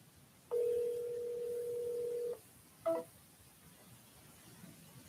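A telephone call to a Lexus car dealership: a steady dial tone sounds for about two seconds, then a brief touch-tone beep follows, quiet and alone.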